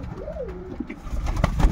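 Pigeons in a loft give a close, clear coo, a rising and falling call, followed by rustling and shuffling noises as the birds move about.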